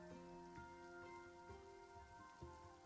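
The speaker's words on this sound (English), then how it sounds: "So it's raining" Rain in the cozy town-builder video game A Little Age: a steady, soft wash of rainfall under a layered, sustained musical background with shifting tones, fairly quiet throughout.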